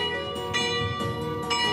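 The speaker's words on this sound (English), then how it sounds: "This bell is tolling 12 noon, but it sure is continuing on for a long time." A large church bell in Kraków, Poland, tolls the noon hour in a castle-side town setting, its rich sustained ringing strokes swelling and overlapping continuously, loud and close with no voices.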